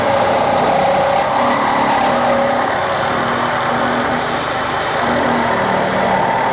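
A Sawzall reciprocating saw cuts through a bent metal motorcycle ramp, giving a steady, loud, continuous buzzing grind that holds for the full stretch with no pauses and no talking.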